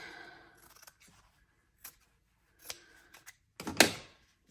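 Scissors cutting a piece of fabric while sewing, a few soft, scattered snips ending in one louder, longer cut, close and otherwise quiet.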